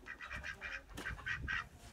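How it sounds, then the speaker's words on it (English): Chickens in a backyard coop at dusk, several birds with roosters among them, give a run of nasal, honking clucks and squawks at close range, with no talk over them. "What are you doing, chickens?"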